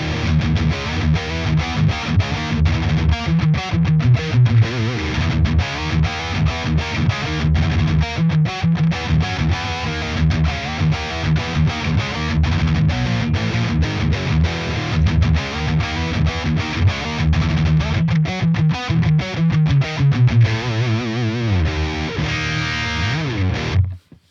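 Distorted electric guitar riffs through the NAM Universal amp plugin with the amp alone, chugging palm-muted chords and runs played continuously and loudly for over twenty seconds, then stopping abruptly.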